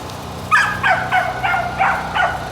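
A dog barks repeatedly in a quick series of about seven yips, close by, with a low steady hum underneath and no talking.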